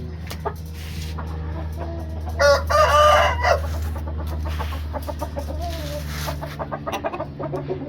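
An Aseel Burmi rooster crows loudly once, and softer clucks follow, over a steady low background hum.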